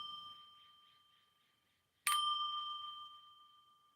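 A small bell struck with a brush rings out in a single clear ding that decays slowly, following the fading ring of an earlier strike, in a quiet room.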